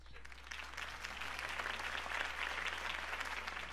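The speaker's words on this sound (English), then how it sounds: "If only Mr. Wayne, my campaign's largest backer, could have heard that applause" Crowd applause after Harvey Dent's campaign speech in a Batman video game, a steady dense wash of clapping from a large audience with a low constant hum beneath.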